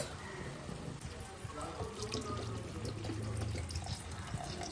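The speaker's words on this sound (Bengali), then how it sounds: "পরিমাণ মতন জল দিলাম।" Water poured into a pan of mushroom curry with spices, tomato sauce and masala mix, a soft steady splashing and trickling at low level, close and alone.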